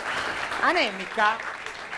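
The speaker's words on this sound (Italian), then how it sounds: "C'è un applauso alla signora" A studio audience at an Italian comedy show applauds a lady contestant, a steady wash of clapping that stays underneath as someone speaks briefly over it.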